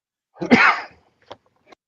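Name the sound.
cough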